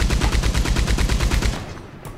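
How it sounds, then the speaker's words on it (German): Machine gun fire in Red Dead Redemption 2 comes as a rapid burst of evenly spaced heavy shots lasting about a second and a half, then trails off into a fading echo. "Ich denke mal, das Maschinengewehr ist gut."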